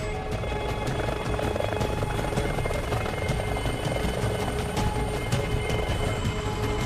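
A helicopter roars steadily and loudly throughout, its rotor chop thudding in a constant pulsing rhythm with a dense engine whine.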